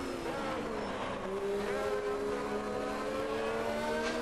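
A race car in the Automobilista 2 racing game accelerates, its engine note holding a steady, loud whine that climbs gradually in pitch with no breaks.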